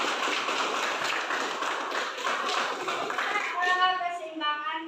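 Children clapping for a classmate, a dense patter of many small hands, close and steady, fading near the end as a voice speaks over it.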